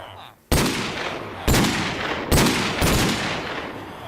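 Gunfire in a first-person shooter video game: four loud bursts of rapid shots, each starting with a sharp crack and trailing into sustained firing, close and dominant, with no talk over it.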